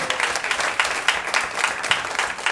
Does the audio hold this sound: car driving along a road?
no